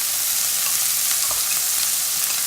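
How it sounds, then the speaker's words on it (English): Blanched vegetables and onions fry in hot oil in a pan for oats upma, giving a steady, close, dense sizzle with faint stirring scrapes throughout. "Once the vegetables have started frying"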